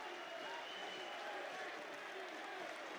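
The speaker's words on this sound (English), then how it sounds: "The crowd absolutely erupting" A big crowd at the EVO Street Fighter 6 top 8 finals roars in cheers and applause, a dense, sustained wall of noise from many voices that holds steady and loud throughout.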